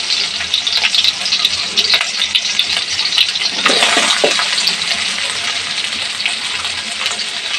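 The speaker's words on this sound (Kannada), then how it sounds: "ಎಣ್ಣೆ ಕಾದ್ಮೇಲೆ ಬೆಳ್ಳುಳ್ಳಿ ಹಾಕೋತಾ ಇದ್ದೀನಿ" Garlic dropped into hot oil for a liver pepper fry, a loud, close, hissing sizzle that swells sharply midway and then settles into a steady crackling fry.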